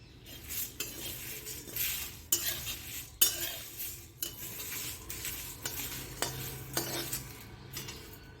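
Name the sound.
dry roasting whole spices in a pan while stirring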